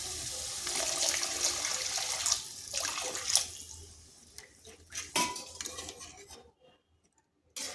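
Water is poured into a pan of cabbage and egg curry after the spices are fried, a rushing splash for a few seconds, then scattered clinks of utensils fading to near silence.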